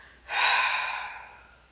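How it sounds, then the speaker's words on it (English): A single deep breath taken mid-set on a Wunda chair during a Pilates ab sequence, one long airy inhale that swells quickly and fades slowly, close and fairly quiet with no talking. "Take a few big breaths."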